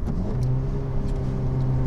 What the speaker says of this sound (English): get the revs up a little bit, and let the clutch out like that.